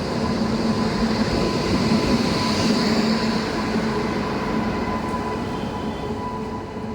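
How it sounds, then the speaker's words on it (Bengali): A train pulls into Raiganj station, a steady loud rumble of rolling cars with a faint squeal, continuous throughout and close by. "ট্রেন চলে এলো।"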